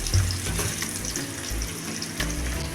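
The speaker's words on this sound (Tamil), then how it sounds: "இந்த அளவுக்கு வதக்கிக்கணும்." Ingredients for a home remedy sizzle while being sautéed in a pan, a close, quiet, steady frying crackle with occasional scraping and stirring bumps.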